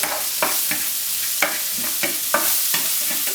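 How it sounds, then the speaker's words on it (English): Spoon stirring onions and garlic together in a pan for a green bean casserole, with repeated scraping strokes over a steady low sizzle, close and fairly loud. "Just mix everything together."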